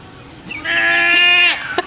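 A single long, wavering bleat from a goat, loud and close, lasting over a second before breaking off.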